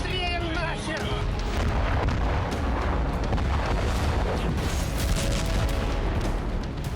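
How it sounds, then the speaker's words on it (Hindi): Loud, dense rumbling blasts and crackling booms from explosions at a Russian airbase in Volgograd roll on continuously, with a voice speaking partway through the din. "वोल्गोग्राद में यूक्रेनी फौज ने रूस के एयरबेस पर कई धमाके किए।"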